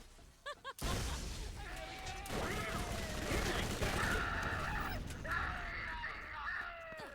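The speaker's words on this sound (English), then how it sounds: "SMG fight." Rapid SMG gunfire in a chaotic Borderlands 1 firefight, with dense bursts of shots, impacts and shouting-like game effects running loud and continuous after a brief quiet start.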